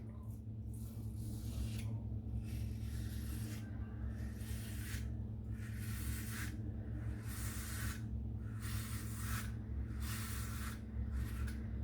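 A Gillette razor scrapes against the grain over a head with two days of stubble, giving a run of short, raspy strokes repeated steadily and close up over a constant low background hum.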